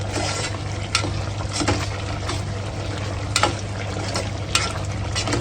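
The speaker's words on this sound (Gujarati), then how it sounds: "સ્વાદ અનુસાર આપણે મીઠું બધા મસાલા એડ કરીને આને ચલાવી નાખવાનું છે" Potatoes with salt and spices, in a peanut-powder potato curry, stirred in a pan over a constant loud sizzling hiss, with a few scraping clatters from the spoon and a low steady hum beneath.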